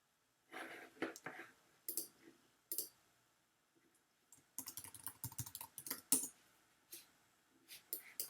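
Quiet, close clicking of a computer keyboard in uneven bursts of keystrokes, with short pauses between flurries, typing login details on a website.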